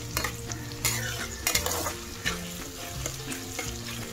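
Onion, chopped tomato and ginger-garlic paste fry in hot oil for a prawn malai curry, giving a constant close sizzle broken by sharp spoon scrapes as the mix is stirred.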